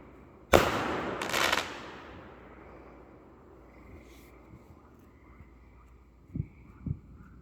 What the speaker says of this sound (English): How much fireworks do they have?